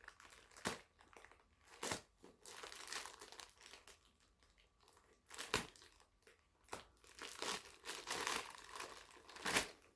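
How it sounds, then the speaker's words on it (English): A sellotaped parcel being opened with scissors, giving close, quiet crinkling and crumpling of packaging with sharp snips and tearing bursts scattered irregularly between softer rustling. "If I can find the way to open it, I'll have to use my scissors"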